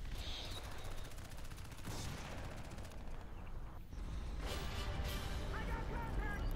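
Machine gun fire in the video game Crysis 3, dense rapid bursts of shots with crashing impacts, loud and continuous through the whole stretch with a short lull before the firing intensifies again.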